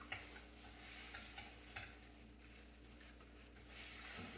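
Spoon stirring sugar into a peppermint ice cream base for thin mint cookie ice cream, a steady faint scraping and swishing that runs throughout with slight swells, no talking.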